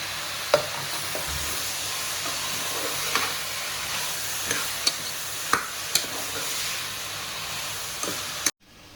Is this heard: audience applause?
no